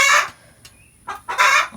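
Ranch chickens busy laying eggs in the morning cluck loudly in two close bursts, separated by a brief, quieter gap with a few faint clucks.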